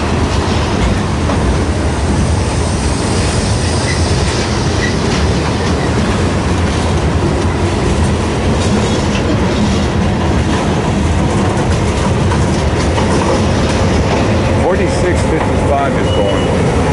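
Lackawanna locomotive 4655 rolling along the track, a loud continuous rumble of wheels and cars with rhythmic clatter and faint squealing, close by and filling the whole stretch.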